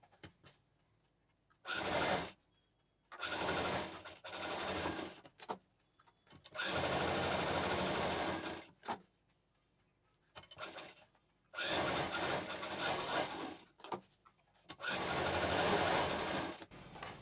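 Sewing machine stitching a 9-inch zipper onto a handmade fabric handbag, running in several loud bursts of rapid whirring separated by quiet pauses, with no talking.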